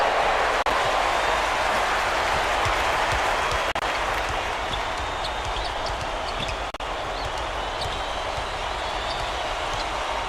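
A basketball arena crowd in the College Basketball 2K8 video game cheers in a steady, dense roar of applause and noise that holds evenly throughout.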